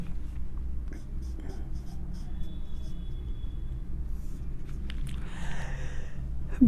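Pen or marker writing a note on a board during a Hindi lesson on growth and development, a soft scratchy stroke sound heard under a steady low room rumble with a brief murmur of voice near the end.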